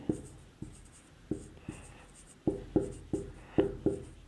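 Chalk or marker tapping and scratching on a classroom board during a chemistry lecture, a series of sharp strokes repeating roughly every quarter to half second, close and clear, with no speech over them.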